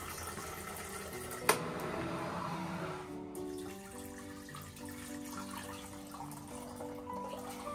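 Tap water runs steadily into a kitchen sink while split chickpeas (chana dal) are rinsed, a soft continuous splash with a brief clink partway through.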